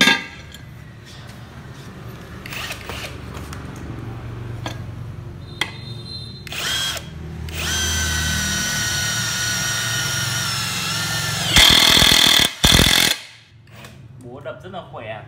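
A DeWALT power tool drives screws into sheet metal, running in several bursts of whirring motor noise that end in a loud, high-pitched screech, with steady background noise in between.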